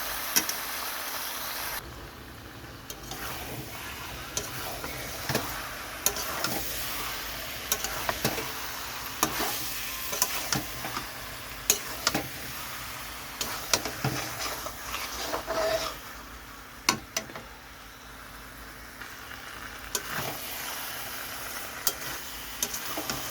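Spice paste with cashew paste cooks down in a pan for a jackfruit and prawn curry. Soft sizzling runs under repeated scraping and stirring strokes, and no one speaks.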